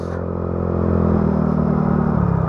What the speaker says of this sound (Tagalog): Hirap ang motor natin dito